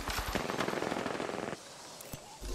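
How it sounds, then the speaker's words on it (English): Rapid automatic gunfire in the Apex Legends video game, a dense burst of shots lasting about a second and a half, followed by a couple of isolated sharp reports. "Opening fire."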